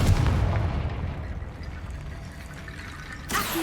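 Confringo spell explosion in the video game Hogwarts Legacy: a heavy blast at the start rolls off into a fading rumble, with a smaller crackling hit near the end.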